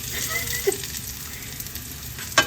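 Pork with the skin on fries in a pan as it is stirred, giving a steady close sizzle with a few scraping knocks of the stirring utensil.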